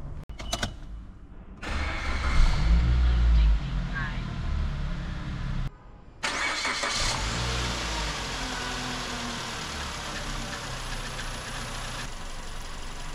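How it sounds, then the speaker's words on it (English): A Suzuki Grand Vitara engine idles with a steady mid-pitched hum, and a faint high whistle from a leaking intake manifold or EGR gasket sits above it, with brief cuts and handling noise along the way. "You might hear a whistling noise when the engine is idling."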